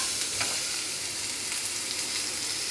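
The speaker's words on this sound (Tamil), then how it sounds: "இப்போ நம்ம அரைச்ச விழுதை நல்லா வறுத்துக்கலாம்." Ground rasam paste fries in hot oil with a steady, close hiss and sizzle, plus faint crackles throughout and no voices.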